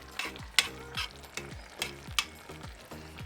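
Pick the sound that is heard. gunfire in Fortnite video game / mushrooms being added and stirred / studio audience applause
mushrooms being added and stirred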